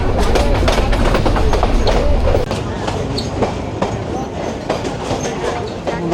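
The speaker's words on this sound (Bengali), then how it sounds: "আমাদের ট্রেনটি আস্তে আস্তে যাচ্ছে" A local train rolls slowly into Kishoreganj station, wheels clattering over rail joints in a steady clickety-clack, with a loud rumbling hum that eases slightly midway and faint voices mixed in.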